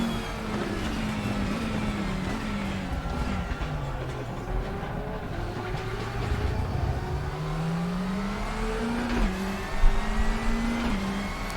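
A McLaren 720S race car from the DTM 2021 pack in the RaceRoom racing game, its engine droning steadily and close with pitch rising and falling through repeated gear shifts, no talking.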